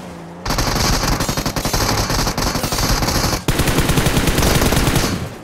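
Rapid automatic gunfire from a battle-royale video game rattles loud and continuous in dense bursts, with a brief break before another sustained volley.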